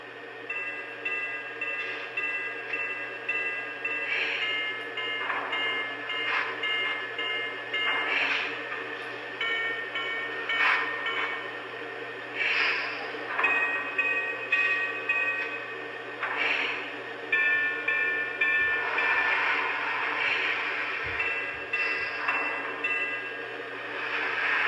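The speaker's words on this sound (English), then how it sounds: "Next up, here are the 5 different bells." A Lionel Vision Line Erie 2-8-8-8-2 Triplex model steam locomotive plays its bell sounds, rhythmic metallic clangs repeating steadily through a sequence of five different bells, with a steady background hum and no talk.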